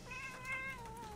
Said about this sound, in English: There's a cat in the house.